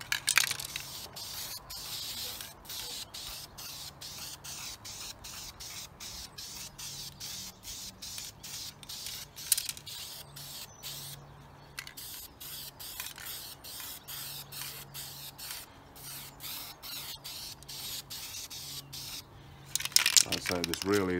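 An aerosol spray can hissing in long steady bursts over homemade wargaming terrain hills, with short gaps between sprays and a voice talking over it.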